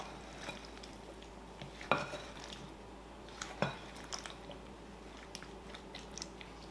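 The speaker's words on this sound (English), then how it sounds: "let's mix that up really well here" Blueberry and rhubarb crumble filling being stirred together in a bowl, soft wet squishing with two sharper utensil knocks against the side, quiet and close.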